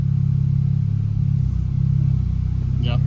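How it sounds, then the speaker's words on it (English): A Nissan Juke engine runs on a dyno with a steady loud low drone, rising slightly in pitch midway, close and continuous, with a brief squeak near the end and no talk. "It's the first car on the new dyno."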